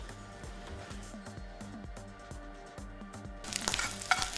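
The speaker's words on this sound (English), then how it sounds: "Pan on, stick some oil in, and in we go with the balls." Flour-coated balls frying in oil in a pan, giving a steady close sizzle that swells louder near the end, with faint background music underneath.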